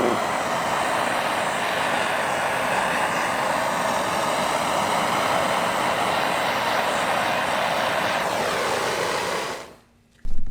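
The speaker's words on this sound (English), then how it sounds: "So let's grab the torch and reburn this thing." A torch flame burns against metal to heat-color it, a loud, steady roaring rush that holds evenly for about ten seconds before cutting off abruptly, then a brief burst of noise.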